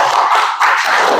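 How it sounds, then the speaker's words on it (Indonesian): Schoolchildren in a fourth-grade classroom burst into loud, dense applause, many small hands clapping at once close by in a continuous wash. "Tepuk tangan dulu buat kita semua"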